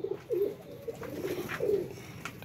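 Mamdeen pigeons coo in two distinct throaty rolls, close and moderately loud, over a quiet loft background.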